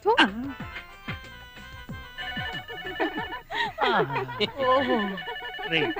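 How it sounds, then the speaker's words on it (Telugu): A telephone ringing repeatedly in a film scene, its bright electronic trills recurring in bursts while voices talk over it. "టెలిఫోన్ ఎంతసేపటి నుంచి రింగ్ అవుతుంది, తీయండిరా"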